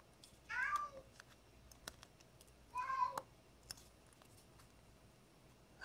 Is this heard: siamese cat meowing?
yes